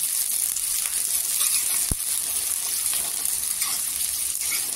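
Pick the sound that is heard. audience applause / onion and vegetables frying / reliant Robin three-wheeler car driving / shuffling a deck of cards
onion and vegetables frying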